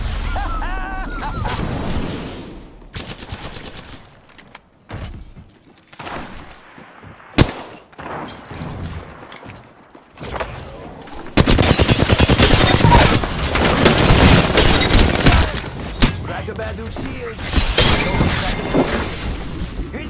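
Rapid bursts of gunfire and shattering impacts in the battle royale game Apex Legends, loud and crowded. The fire grows dense and continuous in the second half.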